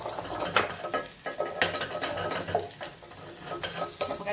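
Mustard seeds, green curry leaves and crushed garlic tempering in hot oil for a chutney, a low crackling sizzle broken by scattered pops and spoon clinks against the pan, fairly quiet and close.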